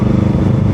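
A Harley motorcycle engine cranks over on a high-torque replacement starter, run through an NWT Cyclotronics ignition brain box, making a brief, steady, loud low-pitched churning rumble.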